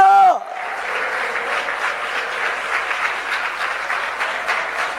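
A church convention congregation claps hard during a sermon: after a brief raised voice, sustained dense applause fills the room, steady and loud for several seconds.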